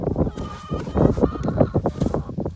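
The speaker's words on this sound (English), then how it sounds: "Come on, chickens. Come get your breakfast." A flock of chickens clucking and squawking close by at breakfast feeding on a farm, busy overlapping calls with a few louder honking cries.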